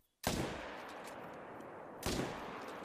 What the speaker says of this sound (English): That second shot did not go very good.